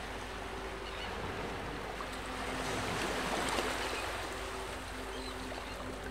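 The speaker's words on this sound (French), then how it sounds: "Le bruit des vagues berce doucement vos pensées." Ocean waves wash in a soft steady rush of surf, swelling gently near the middle and easing off again, with a faint low tone beneath.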